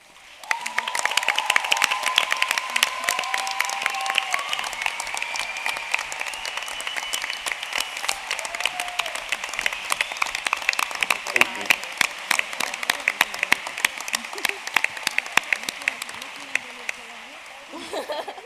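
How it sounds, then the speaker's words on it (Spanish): An audience at a feminist conference applauds the women of a discussion panel, a long, steady stretch of sharp claps spread through the room. Scattered voices and light laughter sit underneath. "Muchos aplausos merecidos para todas las compañeras de la mesa"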